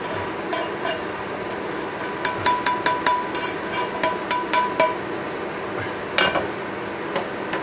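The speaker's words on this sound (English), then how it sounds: "now scrape that out into a plate" A utensil scrapes toasted Kashmiri masala spices out of a hot pan onto a plate, giving a run of quick metallic taps and scrapes over a steady background hiss.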